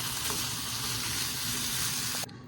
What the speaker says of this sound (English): Now I'm getting my ground beef browned and cooked up.